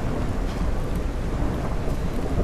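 Steady rain pours with a low thunder rumble underneath in the video game Vorax, a dense, continuous wash of noise with no pauses and no voices.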